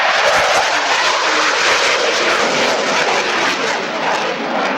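A Sea Vixen jet makes a final arcing pass at the Biggin Hill Battle of Britain Day air display in 2004, a loud, steady broadband roar that holds throughout with no break.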